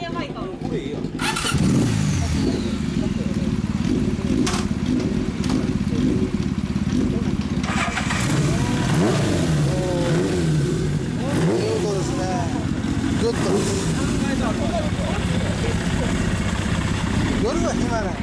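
A 1982 Suzuki GSX750S Katana motorcycle fitted with an MRS exhaust runs loud and close, its engine note rising and falling through repeated revs, with people talking over it.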